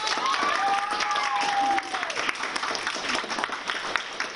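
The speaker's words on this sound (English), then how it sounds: "So would you like to give her a round of applause?" Applause from a school audience for a sixth grade math teacher at a middle school, a steady wash of clapping with a few voices over it, sustained and fairly loud throughout.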